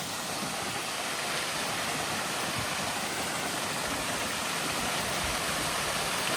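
A waterfall in a casino courtyard pours in a dense, steady rush of falling water, loud and unbroken throughout with no voices over it.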